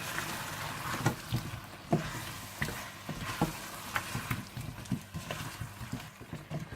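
Spinach sizzles and crackles in a hot pan for palak paneer, with scattered scraping and stirring knocks, fairly quiet and close.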